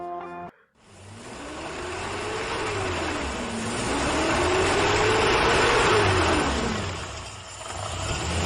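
A small motorcycle carburetor engine runs at idle while carb cleaner is sprayed into it, then the throttle is opened, so the steady mid-pitched drone rises and falls in slow surges, loud and close, with no talking.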